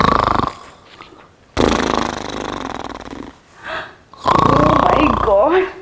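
A man snores loudly in a comedy sketch: harsh, rasping snorts come in long bursts separated by short pauses, with a wheezy rattling tone, close and forceful.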